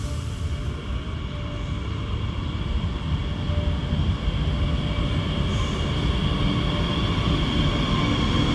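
A train on the line toward Bad Krozingen in the Black Forest gives a steady, loud rolling rumble with a metallic hum, unbroken for the whole stretch.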